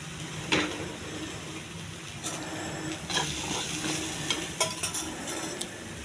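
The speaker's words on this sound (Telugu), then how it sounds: "ఈ ఉప్పు, కారం, పసుపు ఇవన్నీ బాగా పట్టేంతవరకు వేగించాలి." Kabuli chana fry with salt, chili powder and turmeric in a pan, giving a constant hissing sizzle with scattered clinks and scrapes as the mixture is stirred. No one speaks.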